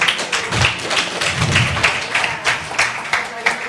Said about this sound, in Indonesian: Kita tepuk tangan sekali lagi.